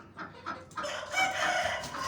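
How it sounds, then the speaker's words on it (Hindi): A white hen clucks in a farm setting as she rises to lay an egg, giving several short rhythmic clucks that swell into a louder, drawn-out call, close and clear with no talking. "वो वाइट वाली मुर्गी वो ऊपर से उठ रही है, अंडा देगा शायद।"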